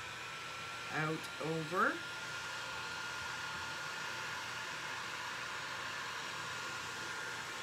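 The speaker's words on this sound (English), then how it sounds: "I'm going to just heat this up a little bit with the heat gun so that I can spread it" A heat gun warms resin on a pour-over piece, giving a steady, close, even blowing hiss that runs throughout after a brief spoken phrase near the start.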